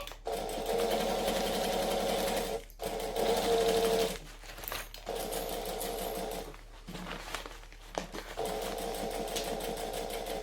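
A sewing machine stitches fabric in fast, whirring bursts, stopping briefly several times between runs as the work is repositioned, close and steady, with no voices.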